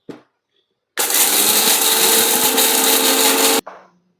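A kitchen mixer grinder grinds black pepper in one loud, continuous whirring roar of about two and a half seconds, starting and stopping abruptly, with brief quiet handling sounds before and after.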